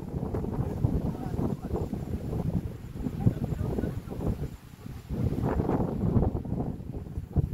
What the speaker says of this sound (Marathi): भरपूर वारा आहे